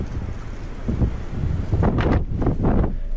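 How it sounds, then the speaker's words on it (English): Wind blowing hard into a phone microphone outdoors, rough buffeting rumbles in bursts that swell and fade, loud and close. "man, it's super windy"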